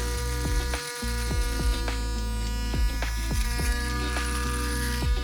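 A Panasonic ES-PV6A palm-sized electric shaver buzzes steadily and loudly up close, its motor hum running continuously with repeated short dips and rasps as it moves over stubble.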